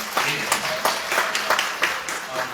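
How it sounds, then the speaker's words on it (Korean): A small crowd claps at the opening ceremony of a Democratic Party academy in Jeju: moderate, uneven hand clapping with distinct individual claps, fairly close, lasting a couple of seconds. "박수."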